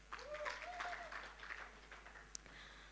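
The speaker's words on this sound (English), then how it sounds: "Give them a round of applause again" An audience at a national conference on noncommunicable diseases applauds after being asked to clap again for the organisers. The clapping is faint and diffuse, with a faint voice under it and one sharp click near the end.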